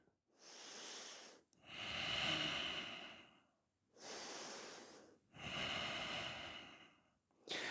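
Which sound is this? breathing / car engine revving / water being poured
breathing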